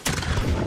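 A heavy ship cannon blast from the naval video game Blackwake, one loud booming shot with a rumbling tail and no talking.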